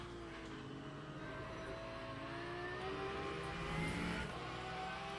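A Ferrari race car in the sim racing game Le Mans Ultimate drives at steady high revs, its engine whine holding level and rising and falling through gear changes, loud and close for the whole stretch with no talk.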